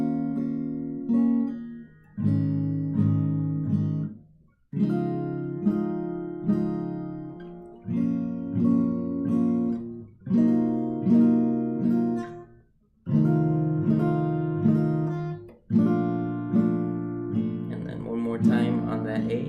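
Guitar chord sequence from a song, played slowly in a tutorial with about three beats per chord: a steady series of sustained strummed chords, each ringing out before the next, clear and close with no talking.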